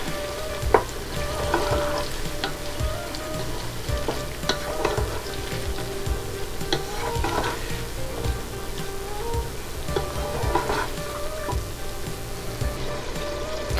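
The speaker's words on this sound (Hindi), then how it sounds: "तो अब मैं इसके अंदर ऐड करूंगी 3 टमाटोज एंड 3 ग्रीन पेपर। अब ऑलमोस्ट 10 मिनट तक मैंने फ्राई करूँगी" Three tomatoes and three green peppers frying in a pan, a loud, steady sizzle broken by regular stirring and scraping knocks from a spoon, with no talk.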